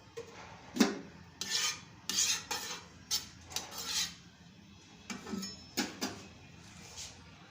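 Bread pieces mixed by hand in a bowl for bread pakora: intermittent scraping, rubbing strokes of a spoon against the bowl, close and fairly soft, with short pauses between bursts and no talking.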